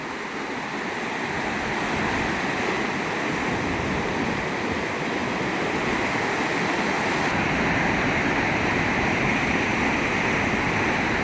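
The Godavari river swollen by rain, fast water rushing in a loud, steady, unbroken roar close by, no voices.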